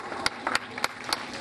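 A few students at a Starex International School program clap sparsely, four or five faint, scattered claps over a quiet room with no one speaking.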